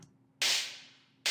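Two sharp, noisy techno clap sample hits, each bursting in and decaying quickly, the second cut short, with near silence before the first.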